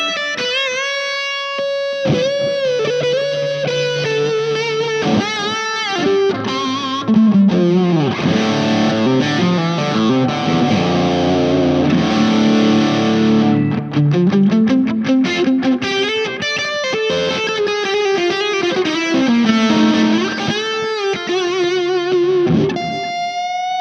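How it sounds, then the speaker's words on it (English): Electric guitar played through distortion and a Line 6 Echo Pro echo effect, with sustained notes and phrases trailing into repeating echoes, loud and continuous, with no talking. "Indulge in some echo"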